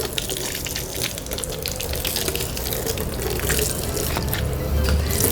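Water is poured and splashed to rinse out a cleaned pigeon coop, a steady loud gushing and spattering that runs continuously without talk.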